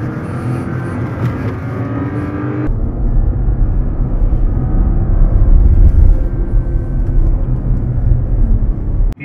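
Porsche Cayenne under full power boost, a deep low roar that swells and thickens after a sudden change partway through, loud and continuous with no talk.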